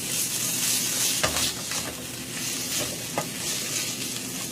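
Beaten eggs seasoned with salt and pepper frying for an omelette in about three tablespoons of hot oil, giving a steady close sizzle with a few soft scrapes of stirring and no talk.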